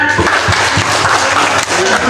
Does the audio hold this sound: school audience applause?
yes